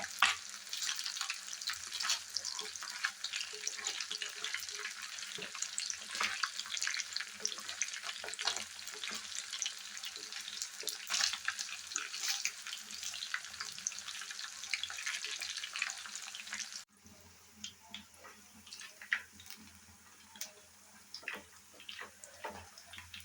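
Vanjiram seer fish fries in hot oil with a dense, steady crackling sizzle close by, which drops to a softer sizzle toward the end.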